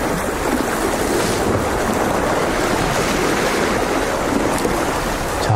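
Sea waves surge and foam against the rocky shore of Ganjeolgot Cape, Ulsan, during a winter lure-fishing session near high tide, a steady broad wash with no talk and little wind.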